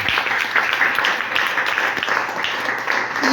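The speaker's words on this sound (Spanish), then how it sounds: "Dele fuerte el aplauso a Dios." A church congregation applauds continuously, a dense steady wash of clapping that stays loud and even throughout without a break.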